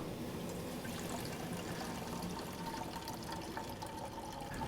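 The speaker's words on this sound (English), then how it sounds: "When we twist this handle, what pours out is pure maple syrup." Pure maple syrup pours steadily from the draw-off nozzle of a sap evaporator, a continuous close liquid rush with no talk.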